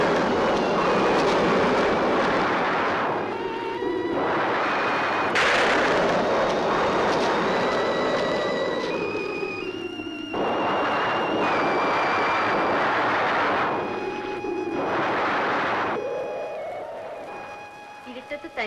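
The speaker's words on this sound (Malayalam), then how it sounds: "ഇടിയും മഴയും വരണുണ്ട്" Heavy thunder rumbles and crashes in long, rolling waves before rain in an old Malayalam film scene, loud and close, with sustained musical tones running underneath.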